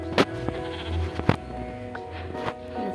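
Blocky sheep bleats from the Minecraft video game, a couple of short nasal cries standing out clearly over a quiet game background, close and fairly loud with no talking.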